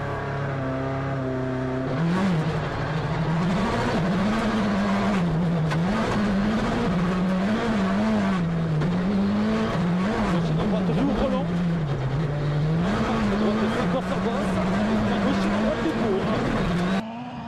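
Engine of a WRC rally car at speed during a Sébastien Loeb test, a steady loud drone with wavering pitch as the revs rise and fall, continuous from start to finish, with some voice mixed in.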